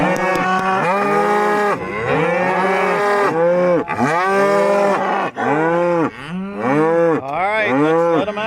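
Cattle on a farm moo loudly and repeatedly in June, with several overlapping calls in quick succession. The herd is waiting to be let out onto pasture, and there is no talk.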